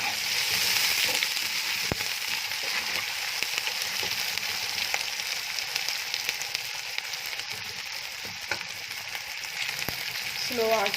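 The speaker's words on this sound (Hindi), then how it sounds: "लहसुन अदरक का पेस्ट ऐड करके तो 4-5 मिनट तक हम इसको अच्छी तरह से भूनेंगे।" Onions with garlic-ginger paste fry in a pan over low heat, giving a continuous soft sizzle with occasional stirring scrapes and light clinks throughout.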